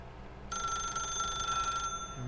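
A telephone rings in The Stanley Parable, a bright electronic trill starting suddenly and lasting over a second before cutting off, clear over a low room hum.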